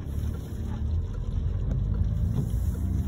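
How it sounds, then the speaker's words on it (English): A car engine hums steadily as it pulls away in gear, a low continuous drone with a slight rise in revs, no voices. "Listening to the engine note and looking at the revs"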